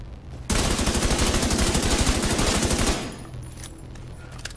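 Sustained automatic assault rifle fire in The Division 2, a rapid rhythmic burst of shots lasting about two and a half seconds, loud and close, then a quieter game ambience with faint clicks.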